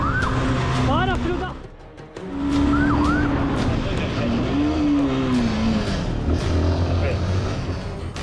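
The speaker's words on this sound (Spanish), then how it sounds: "Una sirena se enciende a lo lejos, cortando el aire como un presagio." A police siren wails at a distance, its rising and falling tone sweeping in short bursts over dense street and traffic rumble, with a low droning layer underneath.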